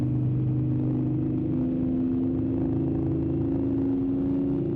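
A modded car's engine in a video game holds a steady, droning hum with layered tonal whine, continuous and fairly loud with no voices.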